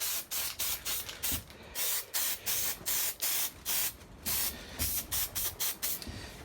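Short bursts of spray paint hissing from a can onto a Pontiac Firebird's new exhaust under the car, about a dozen quick blasts in an uneven rhythm, close by, with brief pauses between them.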